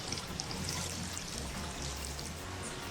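Spring water is poured over lobster to rinse it at an outdoor cooking spot in Jamaica, a steady soft splashing trickle that runs continuously with no voices.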